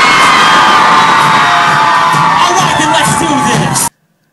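A concert crowd in Allentown roars, whoops and cheers loudly and continuously at a Resolution Tour show, then cuts off abruptly.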